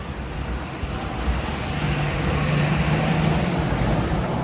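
Wind buffets a camera microphone outdoors on an early-morning Brooklyn street, a loud continuous low rumble that fills the whole clip, with a faint hum of traffic beneath and no talk.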